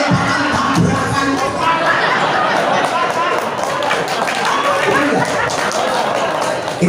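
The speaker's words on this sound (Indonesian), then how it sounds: "Ini tepuk tangan untuk siapa sebenarnya?" Applause and crowd noise from an audience at an Islamic sermon, a dense steady patter of clapping mixed with murmuring that fills the whole stretch at a loud level.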